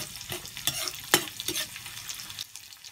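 Lumpia filled with sardines frying in a pan of oil, a continuous crackling sizzle with intermittent scraping and stirring clicks, close and fairly loud with no talk.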